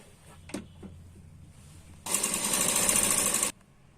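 A sewing machine runs a single burst of about a second and a half, stitching the rounded seam of a double katori blouse, loud and close after a few soft handling taps.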